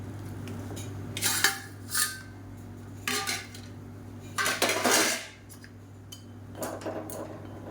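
Noodles going into a pot of boiling water while cooking Egg Maggi noodles, heard as several clattering metallic clinks and scrapes of pot and utensil in separate bursts over a low steady hum, no talk.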